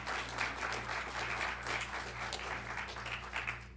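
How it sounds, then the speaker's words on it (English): A live audience applauds at a poetry reading, with steady dense clapping filling the room throughout at moderate level and no talk over it. "Give yourselves a round of applause, please"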